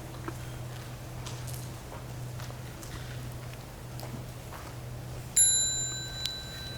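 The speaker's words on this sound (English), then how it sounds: "when you hear the sound of the small bell" Small mindfulness bell rung once near the end during a meditation session, a clear bright ring that sustains and fades over a steady low hum of room tone.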